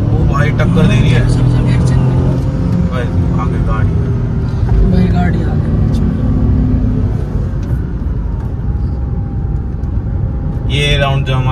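Tata Altroz and Tata Punch cars roar through a drag race, a loud continuous engine rumble with passing-vehicle noise throughout, while people talk and shout over it.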